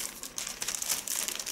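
Plastic pouch packed with a perfume sample crinkled by hand, bright continuous rustling with small crackles, close and fairly quiet with no voices.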